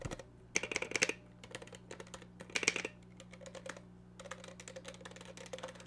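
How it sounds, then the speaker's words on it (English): Fingers type on a mechanical keyboard without a numpad, producing quick clustered bursts of crisp clicky keystrokes separated by short pauses, close and fairly quiet, with no talking. "I love the sound of it, I love the way it looks, I love the feel. It's a really good keyboard."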